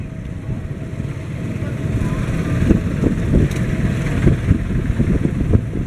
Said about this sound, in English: A lot of motorcycles, a lot of tricycles, a lot of noise